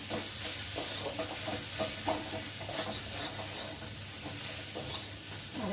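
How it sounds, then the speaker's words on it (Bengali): Spice masala with chilli powder fries in a pan for a fish curry, a steady close hiss and sizzle with faint stirring scrapes underneath, no speech. "দিয়ে মশলাটাকে ভালো করে ভেজে নেব।"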